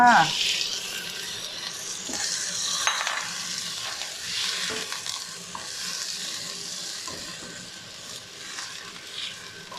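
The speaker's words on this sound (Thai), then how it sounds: "เราผัดกระเทียมจนหอมแล้วค่ะ ทีนี้เรานำกุ้งลงไปเลยค่ะ" Shrimp and chopped garlic stir-fry in hot oil in a pan, giving a steady hiss with stirring scrapes, and a voice talks over it at times.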